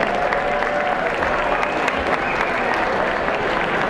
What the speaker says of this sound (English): So let's give ourselves all a big applause.